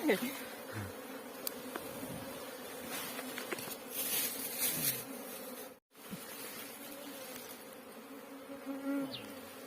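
Ground-nesting bees swarm around a nest in a termite mound, a dense, steady buzzing hum close by, with brief handling noises and a short break partway through.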